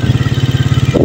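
Motorcycle engine running close by on a village road through wheat fields, a steady pulsing mid-pitched putter that holds loud throughout the short moment.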